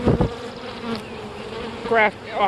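Honey bees from a huge, open beehive buzz loudly and close by in a dense, continuous drone, with individual bees whining past now and then; nobody speaks.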